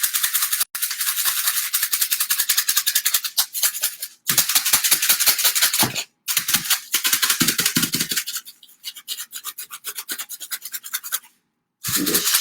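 Purple-dyed rice for a garden sensory bin rattles and hisses as it is shaken hard in a container, in loud, dense bursts broken by brief silent pauses.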